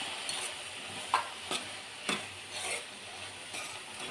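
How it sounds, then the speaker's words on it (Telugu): Brinjal tomato chutney with coriander is stirred in a pan, giving soft intermittent scraping strokes over a faint low sizzle, quiet and unhurried. "ఇందులో కొంచెం కొత్తిమీర కూడా వేసుకొని ఒక్కసారి కలుపుకోండి"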